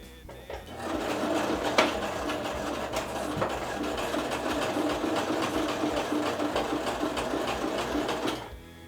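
A sewing machine runs a straight stitch along the waistband of a DIY tennis skirt, a steady close mechanical whir for about eight seconds that starts and stops abruptly.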